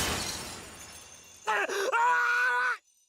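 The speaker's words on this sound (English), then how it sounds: "Suddenly, a sound like shattering glass traveled from my ears to the rest of my body." A glass-shattering effect from the Chaos;Child game ending bursts in over a hiss of background noise and rings loudly for about a second before cutting off abruptly.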